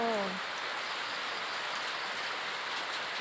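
Heavy storm rain pours down at a house in a steady, dense hiss that fills the whole stretch, loud and continuous, with a brief voice fragment at the very start.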